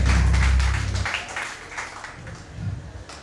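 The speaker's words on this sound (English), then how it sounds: "Give a huge and all a round of applause, please" Audience applause at a hypnotist stage show in Kavos, a brief burst of clapping that quickly fades into scattered claps and room murmur.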